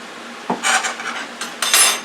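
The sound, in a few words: stirring garlic into pork bean fried rice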